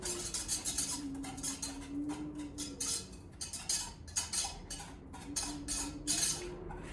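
A metal spoon works French silk pie filling around a pot, giving a continuous run of close scraping clinks in an uneven rhythm, with no voices.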